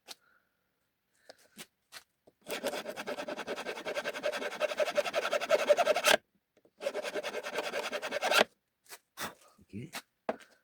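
A dirty metal file rasps against a bicycle chain tensioner in two sustained bursts of rapid, gritty strokes, close and loud, with a few isolated scrapes and clicks before and after.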